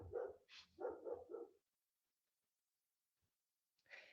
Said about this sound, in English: I don't know if you can hear my dog, but he's barking.